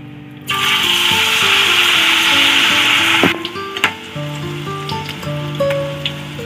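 Oil sizzles and hisses loudly and steadily as onion fritters (kanda bhaji) fry, then drops to a softer crackle with scattered clicks and scraping.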